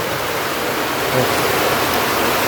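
Steady, dense rain falls outdoors at a night fishing spot, a loud continuous hiss that fills the whole moment with no pauses and no voices.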